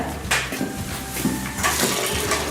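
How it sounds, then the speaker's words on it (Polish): Water is poured into small grass-head balls, a close, fairly loud splashing and gurgling pour that runs continuously for a couple of seconds with no talk. "Do tych trawokulek damy jeszcze trochę wody, słuchajcie."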